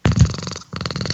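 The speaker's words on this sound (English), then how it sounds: "Listen to this purr monster." A cat purrs loudly and close by in a steady rumbling rhythm, with a brief pause midway before the purring resumes.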